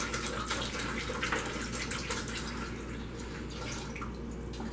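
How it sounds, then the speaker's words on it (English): A liter of spring water pours steadily into a container at home, a continuous splashing trickle that stays fairly quiet and even from start to finish, with no talk over it. "I have right here a liter of spring water, and I'm going to pour it in this container"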